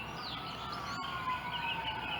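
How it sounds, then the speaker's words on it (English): A siren near a cemetery wails steadily, with its pitch sliding slowly downward as it passes at moderate distance, with faint birdsong around it. "Sorry about the siren noise"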